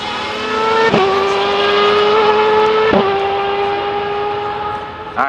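Indy race cars of the CART series circling the track at Portland International Raceway, engine whines sweeping up in pitch with sudden gear-shift drops, loud and fairly close, with track announcers talking over them.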